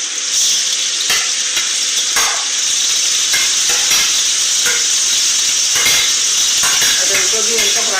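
Sliced onions, tomatoes and green chillies fry in a pan, giving a loud, continuous sizzle with regular scrapes and knocks from a stirring utensil.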